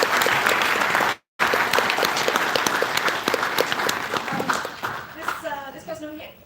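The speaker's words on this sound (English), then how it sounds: "Give me a round of applause, people, come on." Audience applause at a PAX Australia gaming convention panel: loud, sustained clapping from a large crowd fills the room. A brief dropout cuts in near the start, and a voice begins speaking over the tail end.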